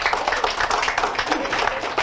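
A church congregation claps together during a sermon, a dense, brisk burst of applause that is near and steady for a couple of seconds with no voices over it.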